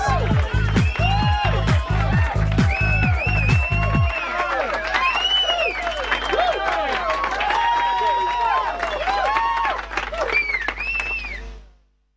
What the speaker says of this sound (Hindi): तालियां जोरदार बजा दें।